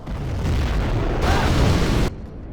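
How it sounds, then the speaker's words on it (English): Nuclear missile blast in a base-attack war video game, a sustained loud rumbling boom rolling for about two seconds before cutting off abruptly. "Here comes another nuke now."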